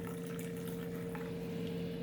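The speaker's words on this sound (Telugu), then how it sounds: "వేడి నీళ్ళు గోరువెచ్చగానే గ్లాస్లో పోసుకుంటున్నా" Warm water poured into a glass, a steady, soft, continuous trickle heard faintly and alone at low level.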